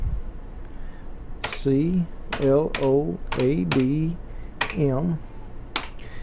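Keys tapped on a CoCo3 computer keyboard, several sharp clicks at uneven intervals, close by and partly under a man's speech.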